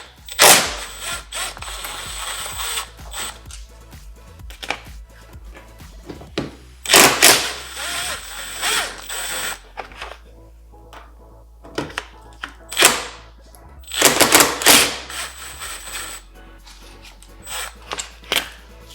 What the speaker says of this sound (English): And with the T30 I will start to remove the screws.